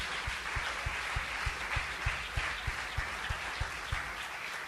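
A church congregation applauds in praise during a sermon, a broad wash of clapping over a regular low thumping beat that pulses steadily underneath.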